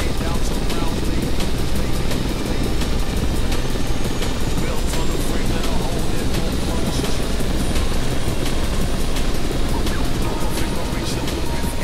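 A helicopter hovering in Flight Simulator X during a slingload hoist rescue, a dense continuous rotor and turbine roar with broadband rumble, steady and loud throughout.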